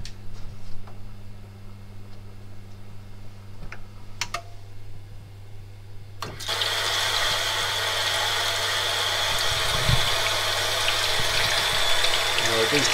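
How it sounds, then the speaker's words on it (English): An automatic ice cube machine begins filling with water, a steady rushing flow that starts abruptly and continues loud and constant over a low mechanical hum, with someone talking briefly beforehand. "And as soon as this is in position, it will fill with water."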